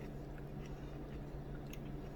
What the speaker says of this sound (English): crunch of the kimchi.